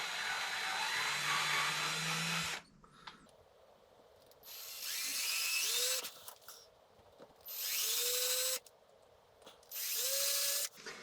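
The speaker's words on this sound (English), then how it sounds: "control the bit and the drill and just make a starter hole" A power drill making starter holes for ski bindings whirs in several short bursts separated by pauses, each run winding up to a steady buzzing whine, fairly close.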